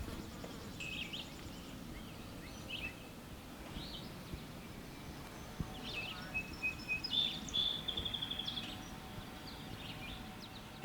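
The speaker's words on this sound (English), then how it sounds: "The birds. You don't hear cars. You hear nature." Birds chirp intermittently in an outdoor rural setting in Tennessee, faint calls over a low insect buzz, with a brighter rapid trill of repeated notes rising near the end.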